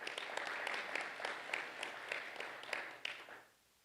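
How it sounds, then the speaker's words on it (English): A conference audience at a clinical research and engagement event claps steadily in a dense, moderately distant wash of hands with sharper individual claps standing out, then fades quickly to near silence in the last half second. "Clark a round of applause."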